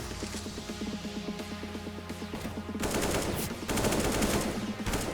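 AK-47 automatic fire in a Counter-Strike aim deathmatch game: steady rapid bursts of close, loud gunfire that grow denser and louder in the second half.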